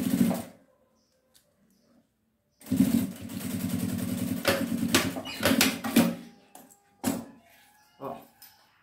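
A sewing machine stitches bias binding in a steady, rapid run of several seconds after a short pause, with quick stops and bursts toward the end.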